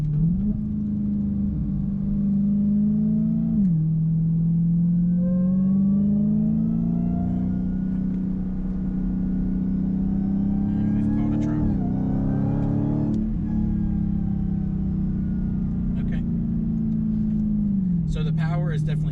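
A 2021 Dodge Challenger Super Stock engine drops a gear and pulls again, its deep rumbling note rising and falling through several throttle changes, loud and steady from inside the car with a voice heard briefly over it.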